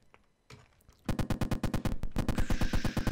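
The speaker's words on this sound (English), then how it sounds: "let's go for machine gun" Rapid automatic machine gun fire from a game weapon being built, a loud regular burst of shots that starts after a brief quiet moment and keeps going without a break.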